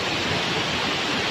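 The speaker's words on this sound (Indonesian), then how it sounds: "tinggi air terjun ini 15 meter" The 15-metre Indrawati waterfall near Ranu Bedali, fed by a spring above, roars as a loud, steady broadband rush of falling water with no voices or pauses.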